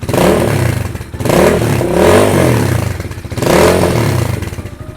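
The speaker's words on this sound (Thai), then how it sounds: "เสียงท่อนุ่ม ๆ เลยคันนี้" A 2017 GPX Legend 200 cafe-style motorcycle with a soft-toned exhaust revs up close in three swelling bursts, each settling back to a throbbing idle between blips.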